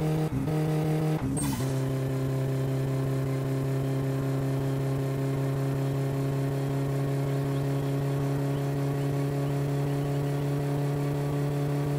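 Car engine in the My Summer Car video game pulling hard uphill, a steady droning hum holding a constant pitch after a short burst of noise at the start, loud and continuous with no talking.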